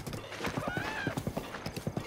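Steady, rhythmic clip-clop of horse hooves in Zelda: Breath of the Wild, close and clear, with a brief whinny partway through.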